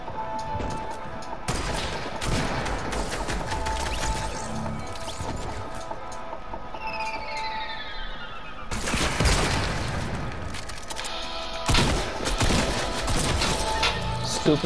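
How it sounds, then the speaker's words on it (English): Sniper shots and shotgun blasts ring out in a battle royale game match, with sharp loud cracks at intervals over a busy, noisy game soundscape and whooshing effects. "I got somebody sniping at me and two shotguns going for me"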